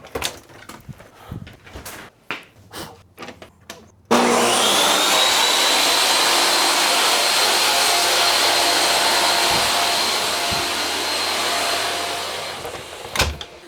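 An electric motor on a test bench kicks on abruptly after a few quiet clicks and knocks, then runs with a steady, loud whirring hum and a rising whine that holds for about nine seconds before cutting off with a clunk.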